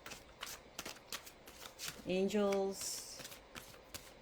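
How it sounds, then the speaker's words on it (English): A deck of Mayan oracle cards is shuffled by hand, giving soft repeated riffling taps with one longer riffle in the middle, under a quiet voice speaking. "So I'm already starting to shuffle the beautiful Mayan oracle"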